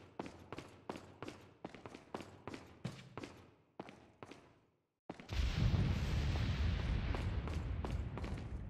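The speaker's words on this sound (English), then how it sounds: "Flash grenade." A flash grenade goes off in the video game Resident Evil 4 with a sudden loud burst, then a sustained, dense roar of noise. A run of sharp, evenly spaced thuds comes before it and then a short silence.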